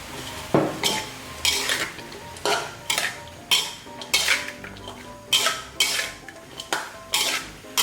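Jicama and shrimp stir-fried in a pan with sugar and oyster sauce, a metal spatula clanking and scraping against the pan in repeated loud strokes about every half second over a low sizzle.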